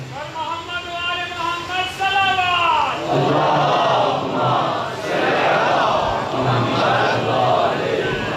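A Muharram majlis audience gathered for a sermon on Imam Hussain bursts into a loud communal shout of a religious slogan after a single voice leads. The crowd's roars come in several surging waves close to the listener.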